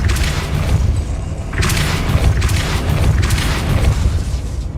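A Depulso spell cast in Hogwarts Legacy, played on PS5: a loud, booming magical burst with a deep rumbling body, followed by further swelling whooshes in a thick layer of game sound.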